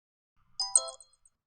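A short, bright iPhone text alert chime, a quick cluster of high electronic tones lasting under half a second, heard alone in silence.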